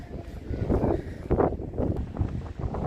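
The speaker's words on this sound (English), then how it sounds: "It is a windy day again." Gusty wind buffets the microphone on the beach at Ramsgate, a loud, low, uneven roar swelling and easing in irregular surges.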